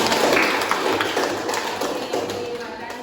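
A classroom of students applauding together: dense, steady clapping that stays fairly loud for about three seconds and eases off slightly toward the end.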